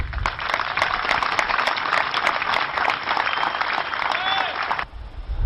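A large audience applauds the new president Félix Tshisekedi at a formal ceremony, with dense sustained clapping that carries on steadily for several seconds before cutting off abruptly.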